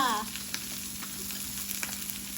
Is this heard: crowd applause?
no